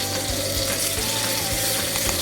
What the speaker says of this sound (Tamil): மீடியம் ஃப்ளேம்லேயே வச்சு ஃப்ரை பண்ணிக்கோங்க